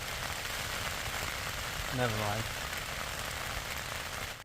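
Steady rain drums on a TerraNova Northern tent pitched on Loughrigg Fell in the Lake District during a solo wild camp, a dense continuous patter close by, with a brief spoken remark partway through.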